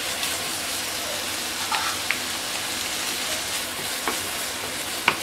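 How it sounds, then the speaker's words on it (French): Minced meat and garlic fry in a little oil, a steady close sizzle and crackle running throughout with a few sharp pops and faint clicks. "On va faire revenir la viande hachée dans un peu d'huile"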